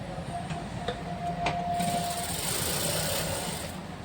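A sewing machine runs close by, stitching fabric for a farshi salwar in a steady mechanical chatter with a few sharp clicks near the start, alone without talk.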